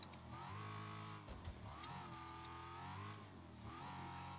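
Race car engine in Wreckfest held at steady high revs through corners, its tone dipping and climbing again as it shifts and accelerates, loud and continuous throughout.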